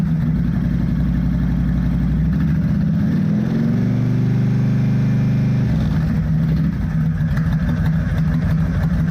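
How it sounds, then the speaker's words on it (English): A car engine idles, then is revved up and held at higher speed for a couple of seconds during a charging system test before dropping back to a steady, close idle. "I'll rev the engine up a little bit."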